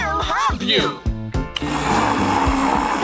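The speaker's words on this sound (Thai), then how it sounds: "เปิดโหมดเครื่องปั่น" Kitchen blender mixing ice cream and milk in a robot cooking challenge, a sharp high whir starting after a short burst of playful voices and sound effects, running loud and steady.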